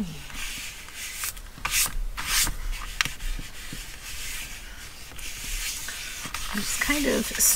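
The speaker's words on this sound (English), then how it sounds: "Smoothing all over the surface" Close, soft rubbing and brushing strokes come from a hand smoothing glued paper over a journal cover, in repeated back-and-forth swishes of varying strength with brief taps between them.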